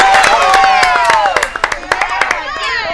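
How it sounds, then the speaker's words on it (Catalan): A live audience at a Catalan quiz show breaks into applause with cheering, many hands clapping loudly at first, then thinning into scattered claps as the noise fades. "un aplaudiment"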